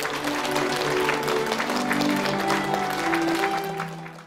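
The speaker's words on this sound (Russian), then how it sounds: "Спасибо за аплодисменты" An audience at a wedding ceremony applauds steadily under soft background music with sustained tones, fading slightly at the very end.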